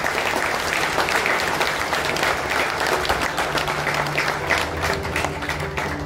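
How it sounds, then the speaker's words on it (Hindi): A large audience at an ex-servicemen rally in a stadium in Lucknow claps loudly and continuously, a dense wash of applause that holds steady for several seconds. "एक बार जोरदार तालियां"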